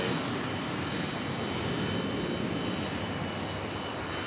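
A United Airlines jet airliner at Raleigh-Durham International Airport produces a steady, loud engine roar, a broad continuous rumble that holds level throughout without talk.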